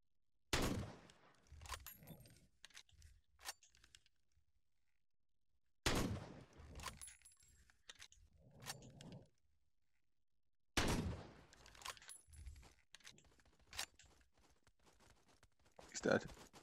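Video game gunfire in the Overwatch out-of-ammo tutorial: three separate bursts of sharp shots with echoing tails, spaced about five seconds apart, fairly loud, with some talking in the quiet stretches between.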